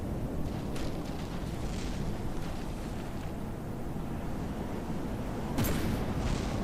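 Cram cannons firing at an enemy during base defense in the game From The Depths, a dense, continuous roar of heavy rumbling with a sharp, louder blast near the end.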